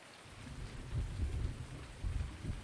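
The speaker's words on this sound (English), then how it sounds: "It's storming." Steady heavy rain with deep rolling thunder during a storm in Farming Simulator 19 on the Ravenport map, a dense continuous downpour with low rumbles swelling twice, no voices.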